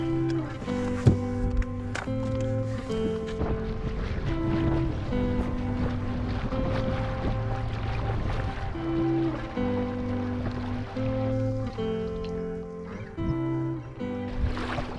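A dinghy with an outboard motor crossing the water off the Isle of Gigha, a steady droning engine hum with shifting tones, mixed with wind buffeting and water splash; moderately loud and continuous, no talk.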